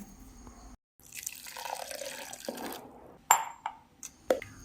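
Hot water trickles and splashes into a container for a couple of seconds to extract coconut milk, followed by a few distinct drips and clinks nearby.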